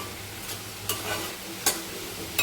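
Chopped onion fries in a pan with a soft, continuous sizzle, broken by a few short scraping stir sounds, fairly close and with no talking.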